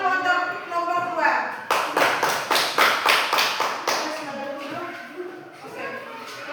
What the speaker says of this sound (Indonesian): Tepuk tangan dulu untuk nomor 2.